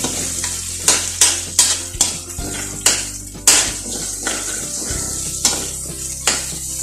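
Ingredients brown in a pan for Filipino pansit palabok in a backyard kitchen, sizzling steadily under repeated sharp clanks and scrapes of a utensil stirring against the pan, with no voices.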